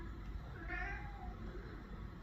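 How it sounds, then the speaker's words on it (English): A cat meows at birds, one drawn-out, rising and falling meow heard at moderate distance over a low, steady background rumble, with no talking. "You talking to the birds, Norris?"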